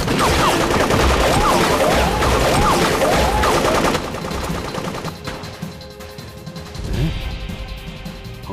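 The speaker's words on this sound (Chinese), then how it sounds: "鹏飞那边怎么开枪了？" Rapid bursts of gunfire and crashing impacts in a kung fu action film shootout in Shanghai, loud and dense for the first four seconds, then a quieter stretch with a few scattered shots.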